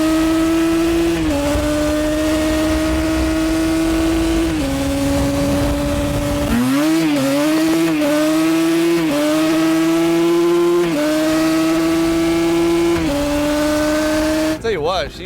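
A stock Yamaha Banshee ATV with a two-stroke engine revs loud and close, its buzzing pitch holding steady, then climbing and dropping through repeated throttle blips before a final sharp rise.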